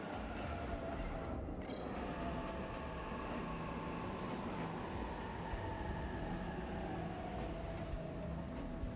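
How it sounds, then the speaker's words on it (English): Train pulling into a station in the video game 13 Sentinels Aegis Rim, a steady dense rumble and hiss of rolling carriages filling the scene, constant and fairly loud with faint metallic squeal on top. "The train's already here."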